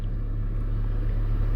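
A car engine left running, a steady low idling rumble that holds evenly throughout without change.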